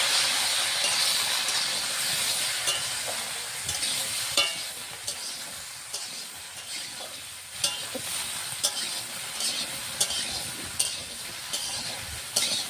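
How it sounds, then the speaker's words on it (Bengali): Jujubes fry in hot oil with a continuous sizzle and hiss, broken by repeated scraping clunks as they are stirred, moderately loud and close. "তেল গরম হয়ে গেছে, দিয়ে দিচ্ছি কুল। সব কুলগুলো ঢেলে দেব। এইভাবে নাড়তে চাড়তে থাকবে।"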